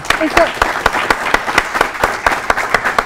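Scattered, uneven clapping from a small theatre audience after a performance by a group, with sharp individual claps at an irregular rhythm and a little crowd murmur.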